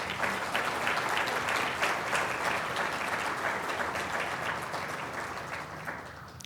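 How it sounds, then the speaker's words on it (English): An audience at a 2023 annual meeting applauds its sponsors, steady full clapping that gradually thins and fades toward the end, with no speech over it. "Help me give them a warm applause as well."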